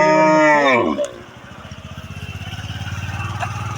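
A cow on a cattle farm in Nabinagar, Brahmanbaria, Bangladesh lets out one loud, drawn-out moo up close, followed by a steady engine idling putter.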